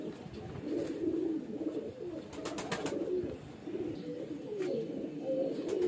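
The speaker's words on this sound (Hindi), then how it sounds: "हाजिर है एक नया किस्म का कबूतर जिसका कि मुझे कभी शौक़ नहीं रहा था" Kasni (ude) highflyer pigeons, babies, cooing softly and repeatedly in low, throaty murmurs, with a few brief sharper clicks and rustles nearby in a quiet setting.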